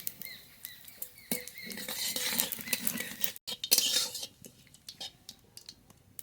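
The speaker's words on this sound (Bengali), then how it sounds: "এবার ফোড়ন করে নেব। তেজপাতা, কটা রাঁধুনি, আর কটা জিরে, গোটা জিরে ফোড়ন।" Bay leaf, radhuni and whole cumin seeds sizzling in hot oil in a pan, a fast, soft crackle and spitting patter with a few utensil clinks, close and fairly quiet.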